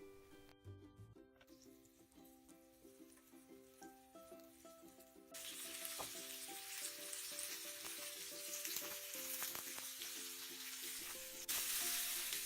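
Flour-coated oxtail sizzles and crackles in a hot frying pan, the frying hiss growing louder and denser partway through, under a faint background hum.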